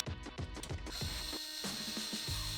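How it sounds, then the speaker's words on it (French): Short ratcheting clicks of a screwdriver fastening a Corsair radiator and two fans onto an AIO water cooler, repeated in rapid bursts over a steady background hum. "je vais aller visser le radiateur et les deux ventilateurs Corsair"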